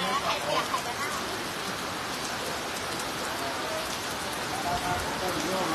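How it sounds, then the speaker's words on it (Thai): Heavy rain pours down in Nan, Thailand, a dense, steady roar of drops drumming on surfaces that fills the whole scene without pause. "ตอนนี้ที่น่านฝนตกหนักมากๆเลยนะคะ"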